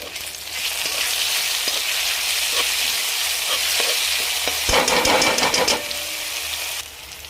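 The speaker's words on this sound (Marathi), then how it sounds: "कांदा तेलामध्ये लाल होईपर्यंत परतून घ्यायचा आहे। त्यानंतर टोमॅटो घालूयात।" Onion and tomato fry in hot oil for a raw banana curry, a continuous close sizzle broken by scraping stir strokes and a few louder clatters near the middle, with no one speaking.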